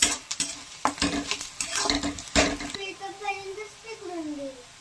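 A spatula scrapes and clanks around a pan over a light sizzle of coconut roasting until reddish; a voice briefly sounds near the end.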